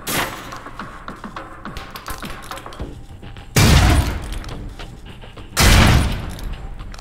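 Concussion rounds hit targets in a Mission Impossible video game: a run of sharp taps and small impacts, then two heavy, loud booming blasts a couple of seconds apart, each fading slowly, with no talk.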